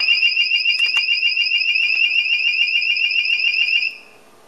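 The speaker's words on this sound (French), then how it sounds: "je vois dans le corps de l'alarme, le type de son détecté, donc alarme sonore" A loud electronic alarm plays as a test for a sound-detection camera, giving a steady, shrill, rapidly pulsing two-tone beep for about four seconds before it stops abruptly into quiet.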